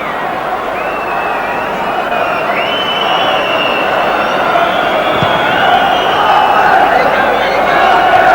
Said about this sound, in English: Spurs fans behind Ian Walker's goal give a mighty cheer of relief